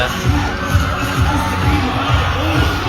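Dense crowd noise at a flashmob in BGC, a loud sustained wall of cheering voices with rhythmic low thumps of music pulsing underneath.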